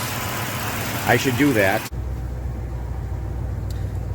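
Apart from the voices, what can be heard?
supercharged M90 Crown Vic engine idling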